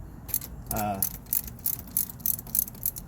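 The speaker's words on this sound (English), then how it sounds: "we're gonna use a 10 millimeter to disconnect the negative" A 10 mm ratchet working a car battery's negative terminal on a 1999-2003 Acura TL, giving a brief burst of close, metallic clicking followed by scattered faint ticks and clacks of the tool.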